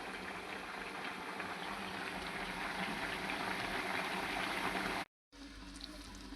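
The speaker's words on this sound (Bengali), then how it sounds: "ডাইলেও বলক চলে আসছে" Pots of tilapia fish curry with greens and potato and lentil dal boil on a stove, a steady soft bubbling hiss that runs evenly and faintly, then cuts out briefly near the end.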